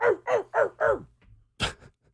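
A man imitates a dog, letting out four quick rhythmic woofs, then a faint grunt and one higher yelp-like bark, fairly quiet overall with no other talk.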